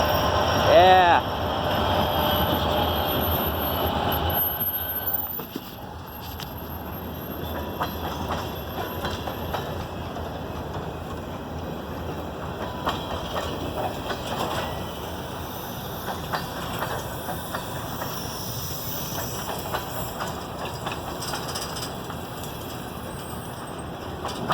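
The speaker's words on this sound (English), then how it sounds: "It's been a long time since I've seen this train." An RS GW1 locomotive hauls a loaded southbound salt train past the Ballantyne Road crossing, a loud rumble near the start that settles into a long steady roll of wheels clattering over rail joints, with faint talk at times.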